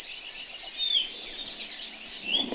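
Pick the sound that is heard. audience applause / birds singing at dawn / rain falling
birds singing at dawn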